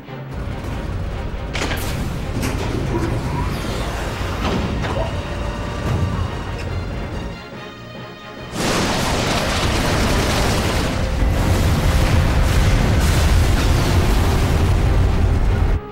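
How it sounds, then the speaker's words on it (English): A cannon volley fires in the Final Fantasy XII video game: a dense run of heavy booms and blasts, loud and continuous, dipping briefly in the middle before a second wall of explosions rolls on to the end. "Give word to the cannons. Make ready and fire."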